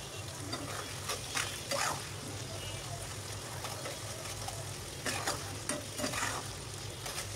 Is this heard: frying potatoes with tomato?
yes